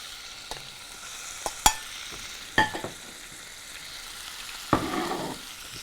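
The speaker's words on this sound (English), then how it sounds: "Now, we're going to cook the chicken." Quiet chicken frying in a pan with a low steady sizzle, broken by a few sharp clicks and scrapes of stirring; no one speaks.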